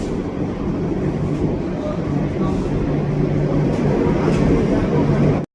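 A Kolkata Yellow Line metro train running, a steady low rumble and rolling hum heard from aboard a moving train, continuous throughout with a faint voice and an abrupt stop at the end.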